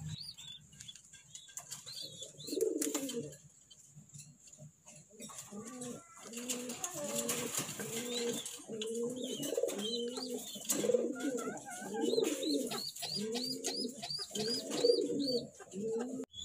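Racing pigeons coo nearby in repeated low, throaty rolling phrases, with brief wing flaps and faint chirps, at a quiet level.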